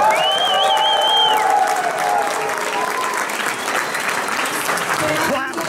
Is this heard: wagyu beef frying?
no